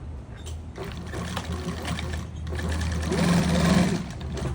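A sewing machine stitches through a scrap vinyl tree skirt, a steady close mechanical whir that runs through the whole stretch and grows slightly louder toward the end, with no talking.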